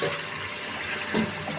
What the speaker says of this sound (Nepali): अब चाहिँ म यसलाई चाहिँ धोएर देखाउँछु